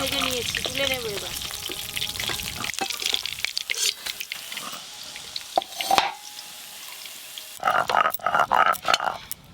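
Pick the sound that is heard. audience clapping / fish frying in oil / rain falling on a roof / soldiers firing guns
fish frying in oil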